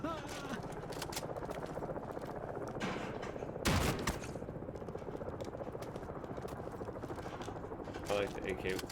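Scoped AK rifle firing in a Call of Duty game, rapid gunfire bursts over a steady helicopter-like drone, with one louder blast partway through and voices talking underneath.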